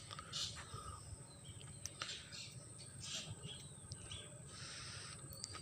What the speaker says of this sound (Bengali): পাখির শব্দ।